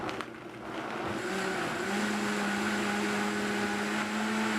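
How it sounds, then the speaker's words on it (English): A countertop blender whirs through smoothie ingredients, starting at low speed with a steady motor whine that climbs in pitch and settles into a continuous hum, close and fairly loud, with no talking. "Let's blend her up."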